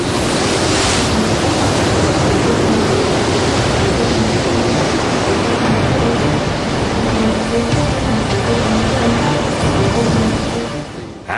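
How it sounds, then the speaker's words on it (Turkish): Violent storm at sea in the North Atlantic, with heavy waves and surf crashing in a continuous loud roar mixed with howling wind, steady throughout with no talk. "Ama onlar saldırmadan önce şiddetli bir fırtına başladı."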